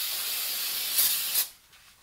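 Brake cleaner hisses from an aerosol can onto a Fiat 500 Abarth CV axle, a steady close spray lasting over a second with a brief louder burst before it cuts off, leaving quiet workshop background.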